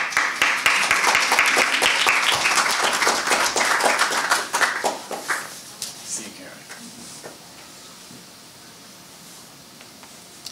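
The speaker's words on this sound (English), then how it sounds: "So let's give a round of applause for Cameron" A crowd claps loudly for several seconds, the applause thinning into scattered claps before fading to quiet room noise.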